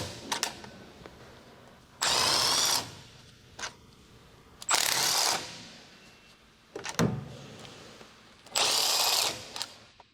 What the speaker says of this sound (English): Using the large 15mm short socket, large short extension bar, and large electric impact wrench,